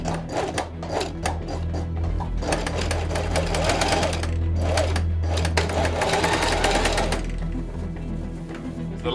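A sewing machine stitches fabric for a wearable keyboard, running in rapid loud bursts of needle chatter with brief pauses, close up and without talk.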